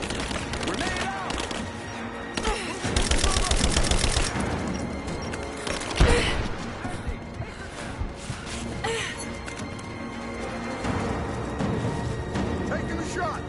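Bursts of rapid automatic gunfire and single shots crackle in the Rise of the Tomb Raider video game, mixed with shouted voices and a sharp crash near the middle.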